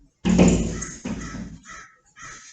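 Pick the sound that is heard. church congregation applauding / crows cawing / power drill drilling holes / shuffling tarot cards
crows cawing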